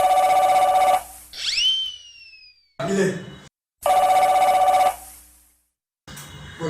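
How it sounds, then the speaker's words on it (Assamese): A telephone bell ringing in loud, steady bursts, two clear rings separated by pauses, with a descending whistle-like tone, a short spoken word, and other brief noises between them. "কালি পৰহিতে আপোনাৰ ফোন বাজিব"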